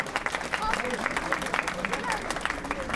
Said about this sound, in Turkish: Onlara bir alkış alalım